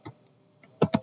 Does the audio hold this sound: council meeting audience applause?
no